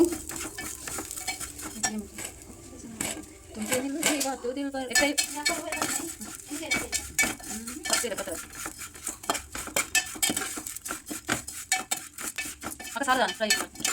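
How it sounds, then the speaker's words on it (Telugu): Semiya vermicelli frying in ghee in a pan, with a spoon stirring, scraping and clinking against the metal over a soft sizzle, busy and close. "నెయ్యిలో సేమియాను ఫ్రై చేయండి"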